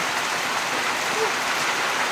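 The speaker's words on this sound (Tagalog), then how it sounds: "inabot na tayo ng ulan" Steady rain pours down as a dense, even hiss of drops, constant throughout without pauses, outdoors in Bicol, Philippines.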